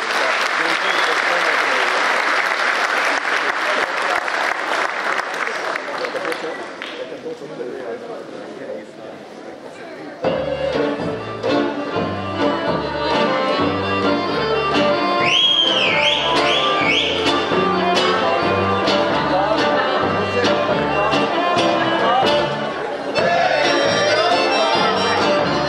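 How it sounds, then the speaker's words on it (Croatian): Applause from a folk dance ensemble's concert audience, a dense clapping wash for several seconds that fades as instrumental folk music begins and carries on to the end. "Pozdravimo i aplauzimo."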